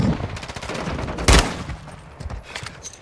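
Rapid gunfire from a 9mm gun in a first-person shooter game, a dense volley of shots with one loud close burst in the middle, no talking over it.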